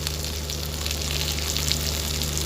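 Potatoes and elephant apple pieces frying in a pan, an even, continuous sizzle close up with a low steady hum beneath, no pauses.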